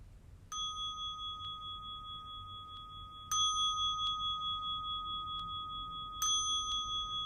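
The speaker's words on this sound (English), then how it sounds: "listening to the sound of the bell" A meditation bell is struck three times, each stroke leaving a long, pure, sustained ring that overlaps the next, clear and calm in a quiet space.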